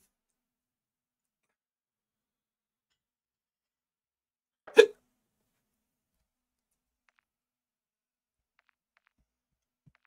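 A single short, sharp hiccup, faint and isolated in near silence, from a gamer during a Call of Duty Modern Warfare 3 multiplayer session.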